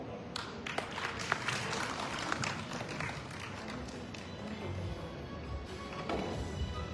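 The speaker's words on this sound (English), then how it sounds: "let's give a round of applause for Sir Voltaire Tai" Audience applause for a presenter at an awards event honoring this year's winner, a steady crowd of clapping hands filling the whole stretch with a few sharper claps standing out, moderately loud and continuous.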